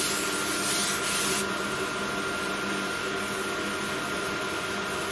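Steady broadband whirring of a fiber laser marking machine's cooling fans with a constant machine hum, dense and unchanging, no voices.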